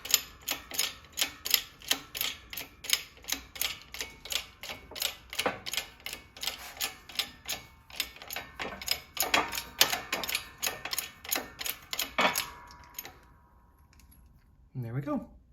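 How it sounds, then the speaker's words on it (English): A shop press, fitted with an old socket, pushes an old differential oil seal out of a Triumph Spitfire differential. The mechanism makes a steady run of close, evenly spaced metallic clicks and ratcheting for about twelve seconds, then goes quiet before a brief final thump. "we're just gonna press it out nice and slow."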